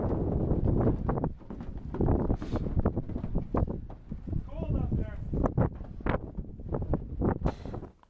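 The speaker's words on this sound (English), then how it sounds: "It's hard to talk even in this wind." Wind buffets the top of a fire tower on Spruce Mountain in strong, uneven gusts and rushes that roar over the microphone, while people talk throughout.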